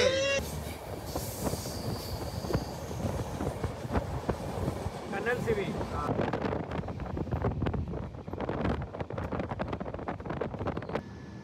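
Rhythmic clatter and rumble of train wheels on rails from inside a moving passenger train carriage travelling from Hyderabad to Ayodhya, steady and loud, with scattered talk in the background.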